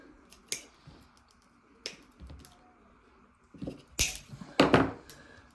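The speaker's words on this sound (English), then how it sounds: "Take and cut your ends off." Scissors snip the wire ends off a homemade umbrella fishing rig in a few crisp, close cuts, clustered near the end among quieter handling clicks, with no voices.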